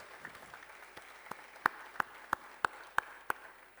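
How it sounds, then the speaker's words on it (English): Sparse applause from a small audience after a public lecture on direct tax provisions of the Finance Bill 2025, faint scattered claps with several distinct sharper claps spaced evenly near the end, fairly distant in a quiet hall. "I request all of you to carry a very loud applause"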